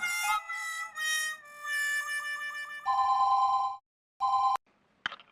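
An office telephone rings in clean electronic bursts, a few repeated trills followed by shorter beeps, close and clear against silence with no voices.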